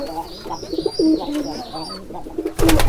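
Soft, low pigeon cooing repeats in short phrases with a few higher chirps, ending in a louder rustling burst.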